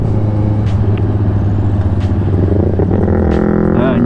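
A motorcycle with its catalytic converter removed runs close by with a loud, throaty exhaust, its deep rumble holding steady and rising slightly in pitch toward the end.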